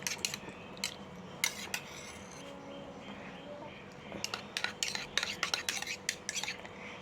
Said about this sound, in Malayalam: ഞാൻ ഇളക്കി കൊടുക്കുകയാണ്. നന്നായി നമുക്ക് മിക്സ് ചെയ്യാം